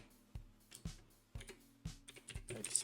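Clacking keystrokes on a computer keyboard as code is typed, a handful of distinct, fairly close taps in an uneven rhythm with short pauses between, quickening into a denser flurry toward the end.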